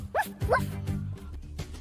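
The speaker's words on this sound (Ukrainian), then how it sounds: "If one comes, bark twice." A cartoon dog gives two quick, high yapping barks close up, followed by a softer whimpering tail, with no talk over it.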